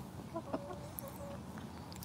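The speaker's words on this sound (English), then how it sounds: "here's old buddy chicken" A pet chicken in a backyard garden makes a few soft clucks close by, short and scattered over a quiet outdoor background, with no speech.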